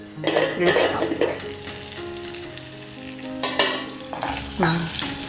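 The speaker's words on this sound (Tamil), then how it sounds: "இப்ப மூடினா சீக்கிரம் வதக்கி போயிடும். உங்களுக்கு உப்பும் போட்டிருக்கிறதுனால சீக்கிரம் வதக்கிடும்." Green chillies with salt sauté in a pan, lid nearby, with a continuous close sizzle and bursts of stirring and spatula scraping against the metal pan.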